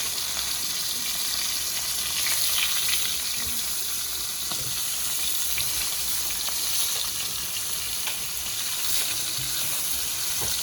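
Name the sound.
fish frying in oil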